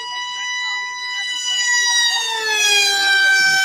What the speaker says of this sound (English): Sound like sirens, doesn't it?